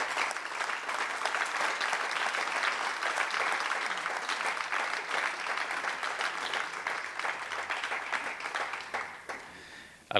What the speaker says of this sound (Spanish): les pido un aplauso de reconocimiento para Juan Fernández Romero